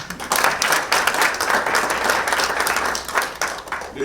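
An audience at a strategy launch event claps steadily and fairly loudly for about four seconds, a continuous wash of many hands with no speech over it.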